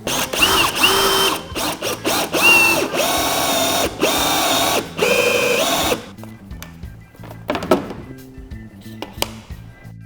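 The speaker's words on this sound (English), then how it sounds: "I'm going to drill another 1-inch hole" A power drill whirs in several bursts, boring a 1-inch hole in a kayak, its motor pitch rising and falling as it bores, then stops, followed by faint clicks and handling noises.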